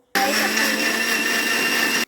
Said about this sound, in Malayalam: എന്നിട്ട് നമ്മൾ അടിച്ചെടുക്കണം മിക്സിയിലിട്ട്